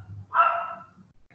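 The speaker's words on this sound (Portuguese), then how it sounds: "É um cachorro, o outro lado é menino fazendo escândalo." A single short dog bark sounds at moderate distance in an otherwise quiet room, with a faint low hum before it.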